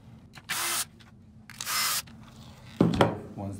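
A screwdriver drives two screws into the back plate of a TownSteel e-Genius door lock, heard as short whirring bursts close by, followed by a sharp clack.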